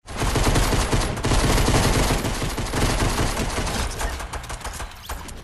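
Heavy automatic gunfire in a shooter video game's search-and-destroy match, loud sustained bursts of rapid shots that taper off near the end, with no voices over them.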